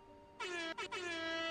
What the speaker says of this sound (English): Those air horns mean it's lit.